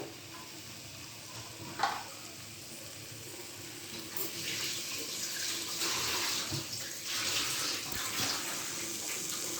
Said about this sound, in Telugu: ఇప్పుడు ఇందులోకి వాటర్ పోసుకోవాలండి.